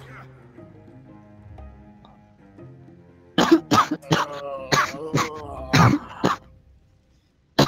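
A person coughs hard in a rapid run of harsh, close, loud bursts with throat clearing, following a quieter stretch of low background tones.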